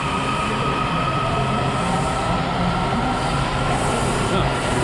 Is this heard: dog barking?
no